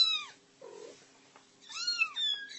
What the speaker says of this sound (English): Little kitties.